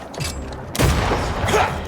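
Gunfire and an explosion in the video game Banishers: Ghosts of New Eden, a sharp volley followed by a sustained roaring burst of combat noise, loud and close, with no talking.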